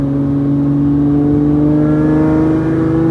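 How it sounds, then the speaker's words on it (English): A Lamborghini Murcielago LP640 engine drones loud and steady at close range, its pitch rising gradually as it revs with no clear break for a shift, alone without talk. "Oh man, I love those gear shifts."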